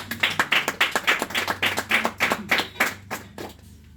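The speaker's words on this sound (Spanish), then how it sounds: "un fuerte aplauso que es para él" A church congregation in Baranoa, Atlántico, Colombia claps in a steady rhythmic beat, about a dozen sharp, evenly spaced hand claps close by that fade out at the end.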